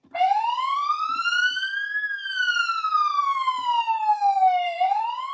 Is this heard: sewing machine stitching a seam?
no